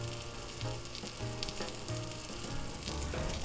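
A patty sizzles loudly and continuously on a hot griddle while being pressed down, with a dense crackling frying hiss and low rumbling bursts throughout.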